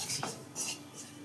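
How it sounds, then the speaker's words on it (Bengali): Flour being dry-roasted in a pan for a white-sauce gravy, heard as a few soft scraping strokes of a spoon against metal, quiet and brief, with no voices. "ময়দাটা আমি এর মধ্যে ভেজে নিচ্ছি"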